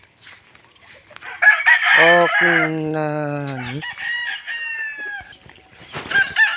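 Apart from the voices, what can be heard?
chickens and rooster crowing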